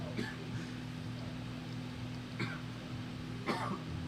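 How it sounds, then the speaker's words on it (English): Someone off to the side coughs a few times, short faint bursts spaced apart over a low steady hum in a quiet room during a stream. "could you please stop coughing?"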